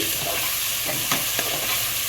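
Chopped tomatoes fry in a pressure cooker for Kolkata-style chicken biryani, a loud continuous close sizzle with a couple of sharp stirring scrapes partway through; no voices.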